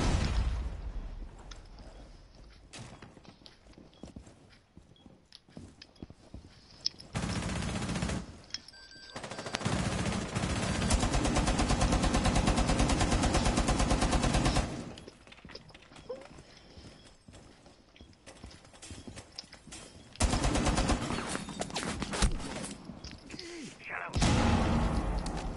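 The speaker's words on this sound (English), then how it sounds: "Lions shooting from outside." Enemies firing from outside in the tactical shooter Rainbow Six Siege: several loud, rapid automatic bursts, each lasting a few seconds, separated by quieter stretches.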